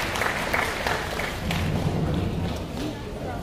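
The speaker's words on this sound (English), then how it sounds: "Please give him one more round of applause." Audience applause at a Taiwanese community Thanksgiving dinner, a steady room-filling patter of clapping that holds for a few seconds with some low thumps and murmur underneath.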